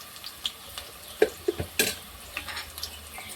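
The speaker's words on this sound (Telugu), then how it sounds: "మనం ఆనియన్ ముక్కలు వేస్తున్నానండి. పచ్చిమిర్చి కూడా వేస్తున్నాను." Onion pieces and green chillies fry in a pan for a boti curry, a steady low sizzle broken by several sharp spatula scrapes and clinks against the pan, close and with no talking.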